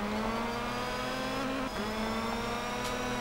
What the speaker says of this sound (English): A lot of the sound you can actually hear is actually the gearbox.